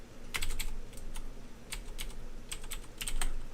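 Someone types a folder name on a computer keyboard, several short bursts of light key clicks with pauses between them, close and quiet with no talking.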